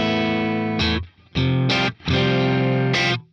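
An electric guitar played through a Boss Katana amplifier on a clean tone rings out in a few sustained strummed chords, each separated by a brief pause, bright and close with no talking.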